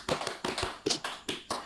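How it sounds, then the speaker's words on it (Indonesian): Sharp hand claps in a quick, uneven series of about eight close, distinct smacks, heard alone in a small indoor space at a warung noodle review. "Oke, tepuk tangan."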